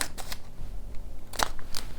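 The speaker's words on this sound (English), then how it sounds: "so pair of scissors, and just snip off the top." Scissors snip through a plastic patch packet with a few sharp, close cuts and crinkles, no talking.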